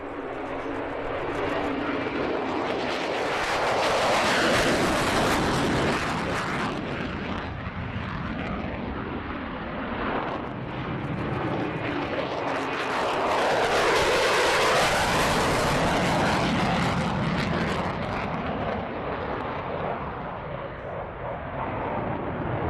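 A fast jet making repeated low missed approaches at the AirVenture air show, its engine roar swelling and fading in two long passes, loud and broadband with a steady rumble throughout.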